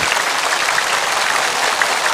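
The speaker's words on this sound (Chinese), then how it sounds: "再次向你们送上敬意的掌声" A large television studio audience breaks into sustained, loud applause for traditional Naxi music performers from Lijiang, Yunnan, steady and dense throughout with no voices on top.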